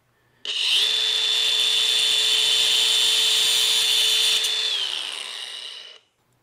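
A power saw cuts a small turned wooden part in half, giving one loud, steady high-pitched whine that holds for about five seconds, then drops in pitch and stops abruptly.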